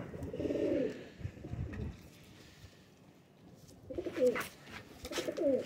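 Sialkoti pigeons coo in two soft, throaty bursts, one at the start and another near the end, with a quiet gap between and no talking.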